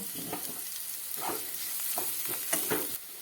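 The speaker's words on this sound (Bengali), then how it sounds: "এই তেলের মধ্যে দিয়ে দেব কুচনো পেঁয়াজ। এই পেঁয়াজটা একটু ভেজে নেব।" Chopped onion fries in a little oil in a kadai, hissing steadily up close while a spatula pushes and scrapes it in short, uneven strokes.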